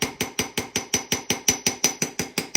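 Steady rapid hammer blows strike a metal button blank to texture it, about five sharp ringing metallic taps per second, close and evenly paced with no voices.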